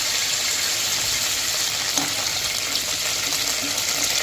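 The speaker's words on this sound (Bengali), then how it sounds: "এপিট ওপিট করে হালকা লাল করে আমাকে ভেজে নিতে হবে।" Chicken pieces fry in a pan of oil for biryani, giving a steady, close, unbroken sizzle with no talking.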